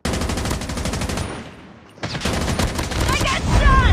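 Rapid automatic gunfire rattles loudly and close in a Call of Duty match with a chopper loadout, pausing briefly before resuming in dense bursts.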